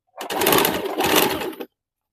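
A sewing machine stitches around a blouse neckline in two close, steady whirring runs separated by a brief pause, then stops abruptly into silence.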